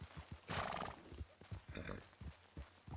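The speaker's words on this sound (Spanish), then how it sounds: "A ver, hay caballos." Horses neighing nearby, one loud whinny followed by a softer one, with scattered hoof thuds and shuffling around them.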